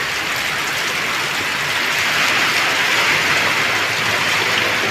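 Heavy rain from Typhoon Crising pours down in a loud, continuous hiss, growing slightly stronger midway with no voices present.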